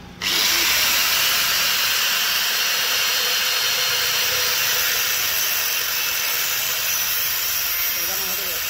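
A power tool cutting a hydraulic pipe on an auto rickshaw starts abruptly and runs as a loud, steady high-pitched whine with a harsh grinding edge, close by and unbroken for the whole stretch.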